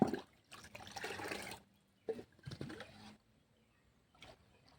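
Banana peel mixture being stirred into about five times its volume of water, giving sloshing, splashing bursts of liquid close by, with brief pauses between strokes and no talk.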